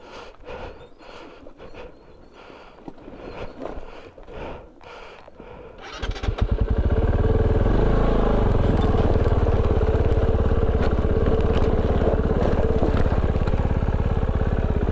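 A Kove 450 Rally adventure motorcycle fires up on a rough jeep trail after quiet footsteps and rustling, then settles into a loud, steady close idle with a rattly single-cylinder thrum.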